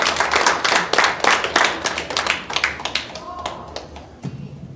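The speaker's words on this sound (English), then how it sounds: "I just want to give another round of applause to Marjorie" A round of applause at an online celebration: a dense burst of many hands clapping, loud at first and gradually thinning out, with a voice speaking over the closing claps.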